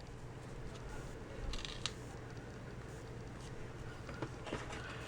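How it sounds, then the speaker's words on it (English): Scissors trim the ends of a mesh ribbon with a couple of faint, quick snips over a low steady hum. "We can trim off the ends."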